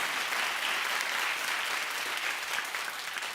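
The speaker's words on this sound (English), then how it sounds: "But applaud, applaud, applaud." Studio audience of a daytime talk show breaking into sustained applause, a dense, loud, even roar of clapping from a large crowd with no speech over it.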